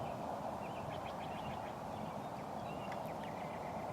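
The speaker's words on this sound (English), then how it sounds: "Those birds you can hear in the background are western meadowlarks." Western meadowlarks sing in the distance on a clear morning in the Columbia River area, their faint, short whistled phrases repeating over a steady wash of wind or open-air noise.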